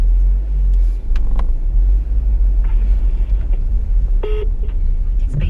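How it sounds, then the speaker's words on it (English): A car drives out of a car park, its engine a steady low rumble close by, with a few faint beeps and clicks over the top and a brief dip in the noise near the start. "I'm just leaving the car park now"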